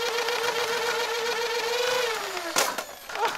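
A modified Nerf Rapid Strike foam blaster with Rhino flywheel motors on a LiPo battery whirs loudly and steadily up close, its pitch sagging slightly before a sharp burst of firing near the end.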